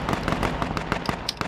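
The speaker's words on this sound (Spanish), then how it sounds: "Qué de disparos se oyen por la zona." Rapid bursts of gunfire ring out in an H1Z1 King of the Kill battle royale match, a quick irregular string of sharp cracks, some near and loud, others more distant, with no talking.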